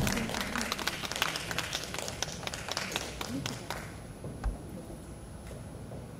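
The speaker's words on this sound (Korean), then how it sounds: "여러분 뜨거운 박수 부탁드립니다." Audience at a Korean arts troupe founding ceremony clapping in a dense burst of applause that thins out and fades, with a voice speaking over it.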